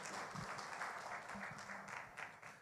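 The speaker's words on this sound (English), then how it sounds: "Let's give him a round of applause." An audience at a Kenya travel expo partners breakfast applauding an honoree, a short burst of dense clapping heard from some distance and fairly faint, with no talk over it.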